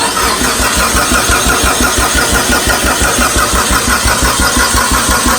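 A Mitsubishi Evo 8 engine with a big turbo being cranked, the starter churning in a steady fast rhythm under a loud, dense rumble, heard up close with no talking.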